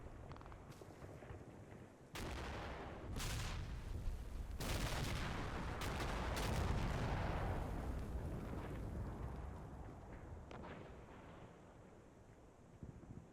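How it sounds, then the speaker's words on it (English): An artillery barrage lands in a World War II tank strategy game, with sudden heavy blasts followed by long rumbling, crackling roars that swell and fade, fairly distant and muffled. "Let's call in some artillery. So Admiral Kuro there in that objective is getting a little bit bombed."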